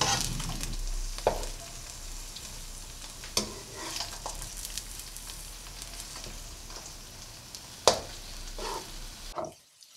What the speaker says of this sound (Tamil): கேரட் பீன்ஸ் எல்லாம் லைட்டாக வதக்கிட்டு 3 முட்டையை உடைச்சு சேர்த்துக்கலாம்.